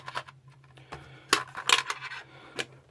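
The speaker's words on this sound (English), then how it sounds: "So you always want to roll these on a mat." GenCon 50 promo dice, a gold and black Gemini-mix set with a special D6, clatter onto a mat in a few quick clicking bursts before going still.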